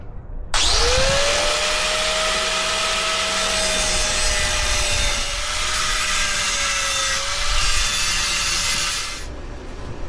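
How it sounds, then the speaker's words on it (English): A grinder cuts a small bevel along metal edges to prepare them for welding. A loud, continuous abrasive roar with a steady whining tone runs for about nine seconds, close and alone, then stops. "Now I'm gonna grind a little bevel on those edges just to give some more place for welding to get into."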